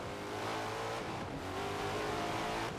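A race car in the Forza racing game revs hard, with a loud, continuous engine whine rising and dropping in pitch as it pushes up through the revs, with no voices.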